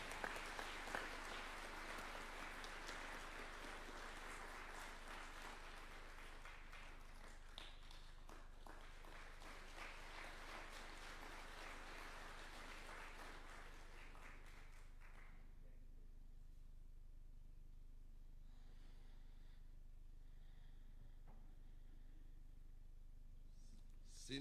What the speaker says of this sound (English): Another clap would be in order.